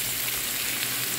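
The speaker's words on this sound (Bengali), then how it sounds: "ক্যাপসিকামগুলো দিয়ে ভেজে নিব" Carrots and two kinds of capsicum fry in a pan for vegetable samosa filling, making a brief, even, steady sizzle at close range.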